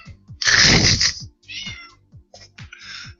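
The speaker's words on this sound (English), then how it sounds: "That's my cat." A pet cat meows close and loud indoors: one long drawn-out cry, then several shorter meows with brief pauses between them, over a faint low hum.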